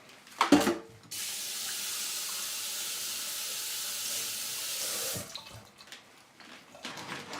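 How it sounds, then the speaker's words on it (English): Tap water runs steadily into a sink for about four seconds as hands are washed, a loud close hiss framed by clatter and handling noises before and after. "just give me a sec to wash my hands"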